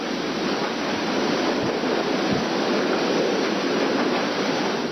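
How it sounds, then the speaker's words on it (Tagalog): Typhoon Glenda's wind roars steadily with heavy falling rain in Quezon, a dense, unbroken wash of noise with no voices. "Humuhuni ang hangin sabay ng pagbagsak ng ulan."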